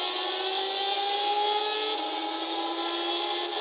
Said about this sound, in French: Écoutez vraiment le son de la voiture.